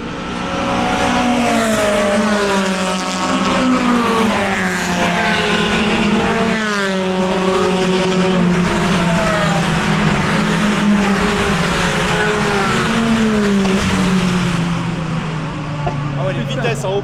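Open-class race cars at speed on a circuit during a race: a loud, continuous roar of several engines, their pitch sweeping up and down as they pass, with people talking over it.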